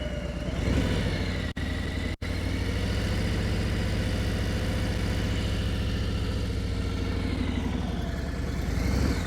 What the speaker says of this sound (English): You're listening to the engine, right?